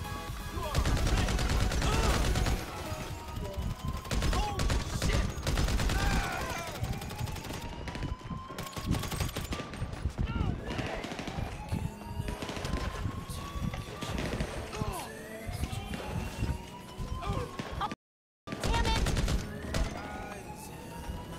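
Rapid bursts of gunfire in the online video game GTA 5 Online crackle steadily throughout, with game engine and vehicle noise underneath, a brief dropout near the end, and someone talking excitedly over it.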